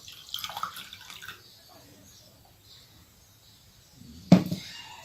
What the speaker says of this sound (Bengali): সেই চা পাতা আমি একটি কাপে তাজা পাতা চা পাতা সহ এভাবে ঢেলে দেব